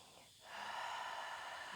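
A single deep inhale during a Pilates class, soft and close, rising into a breathy hiss that holds steady.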